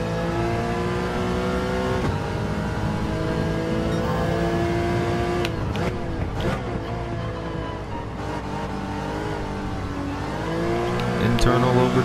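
Race car engines in Gran Turismo 7 roar steadily and loudly through a sport-mode daily race as one car moves past a Mazda, with rising revs near the end.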